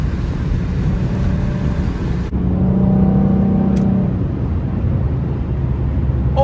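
A Corvette ZR1 drives past on a scenic highway, a steady low engine drone with a brief tonal swell in the middle, heard from nearby traffic.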